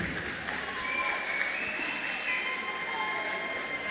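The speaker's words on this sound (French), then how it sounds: "encourageons ces deux boxeurs par des applaudissements," Steady, dense applause fills a boxing fight-night venue as the crowd cheers two boxers before the result is announced, an even wash of many hands clapping throughout.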